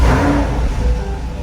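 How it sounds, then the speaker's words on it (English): A Chevrolet Corvette C8 engine fires up, a loud, close, dense mechanical roar that holds steady with a throaty rumble and no voices. "fire up the C8 so you guys can hear what a bad boy this sounds like"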